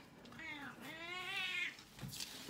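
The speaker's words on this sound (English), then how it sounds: "Sorry, cat on desk, and she's being like very difficult." A black cat on a desk meows several times in drawn-out, whiny calls, close by and clear in a quiet room.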